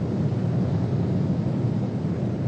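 Cargo plane carrying racehorses powers its engines up for takeoff, a deep, steady roar heard from inside the cabin, loud and unbroken with a heavy low rumble and no voices.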